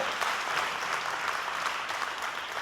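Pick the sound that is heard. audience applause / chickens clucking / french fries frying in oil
audience applause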